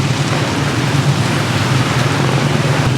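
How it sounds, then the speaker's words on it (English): Heavy rain pours steadily onto a street, a dense, continuous hiss that fills the scene with no voices on top. "It's still pouring rain."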